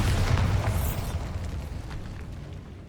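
Bombarda spell blast from the video game Hogwarts Legacy, a loud burst with a deep rumbling boom that slowly fades, no talk.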